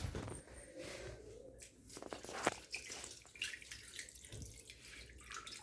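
Water runs from a tap while hands are washed, a faint, continuous splashing and trickling with small irregular drips and knocks, heard close by and with no talking.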